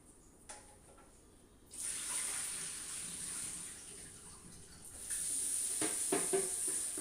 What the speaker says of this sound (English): Now, this is a water reservoir. I'm going to empty this out and really give it a good cleaning too.